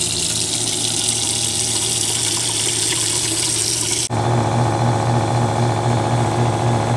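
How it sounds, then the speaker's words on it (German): A water pump under the stairs of a tiny house starts up as the tap opens, a loud steady mechanical hum with rushing water that shifts abruptly into a deeper, pulsing drone partway through. "wenn die Pumpe anspringt, sobald wir den Wasserhahn öffnen und der Wasserfluss startet, ist es unserer Meinung nach wirklich laut"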